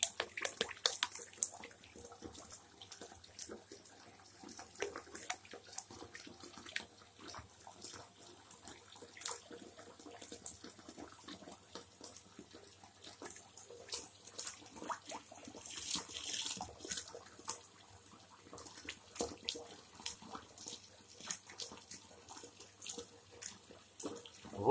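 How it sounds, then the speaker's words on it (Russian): Water trickles and splashes faintly into a bathtub as it fills, a quiet, continuous bubbling with scattered small drips and splashes, no talking. "Вода прибавляется"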